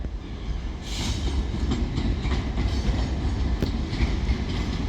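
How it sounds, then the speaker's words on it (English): A Class 66 diesel freight locomotive hauls a DB cargo freight train through Manchester Oxford Road station, a loud, steady rolling rumble with rhythmic wheel clatter filling the whole stretch, close by and with no voices. "is going to be another freight train. What's looking like is going to be one of those sheds, aka Class 66."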